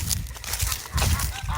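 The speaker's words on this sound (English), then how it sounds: "say hello to the geese and duckies" A backyard flock of geese and ducks near an apple tree, giving a brief burst of nearby honking and quacking calls, fairly faint, with a little noise in the background.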